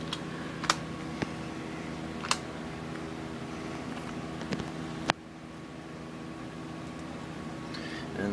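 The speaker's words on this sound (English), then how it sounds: "Sorry it's taking so long, I am typing with one hand." One-handed typing on a computer keyboard, sparse faint clicks and a few sharper taps scattered over a steady fan-like hum, with no voices.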